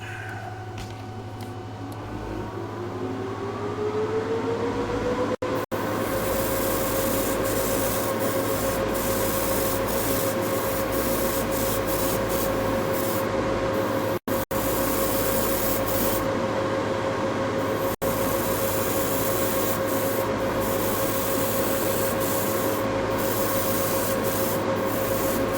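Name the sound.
Gaahleri GHAD-68 airbrush spraying paint with Serenair compressor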